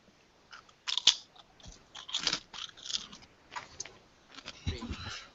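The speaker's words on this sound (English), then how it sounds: "Who's eating crunchy Cheetos?" Someone close by crunches crunchy Cheetos, loud bites followed by several chewing crunches in an irregular series against a quiet background.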